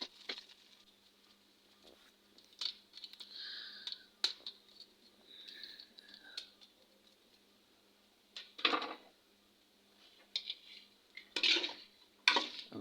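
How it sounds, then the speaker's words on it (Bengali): Noodles tossed with spices in a pan, giving intermittent scraping and stirring clatter with scattered light taps, several louder bursts near the end, quiet between strokes, no talking. "আমি ভালোভাবে নেড়ে চেড়ে নিতেছি"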